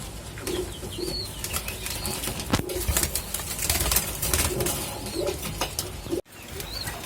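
Omani teddy pigeon chicks shift and flutter in a cage, with soft low coos and rustling wing flaps over a steady ambient hiss, interrupted by a brief dropout near the end.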